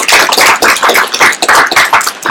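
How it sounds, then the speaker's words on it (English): An audience claps to welcome Ernest Adams on stage at the Amex Games Festival in Middlesbrough, UK, a loud, close, steady patter of many hands with no talking. "So a big round of applause, please welcome Ernest Adams to the"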